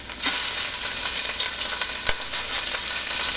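Shrimp fry in hot oil with a loud, dense, steady sizzle and occasional sharper crackles and pops, close up and continuous, with no talking.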